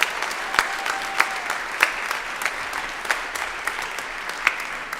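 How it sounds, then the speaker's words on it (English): An audience at a 50th annual New Year's Day poetry marathon applauds, with a soft spread of clapping punctuated by several sharper, louder claps standing out at irregular moments. "can we please have a round of applause for everybody who has made this possible?"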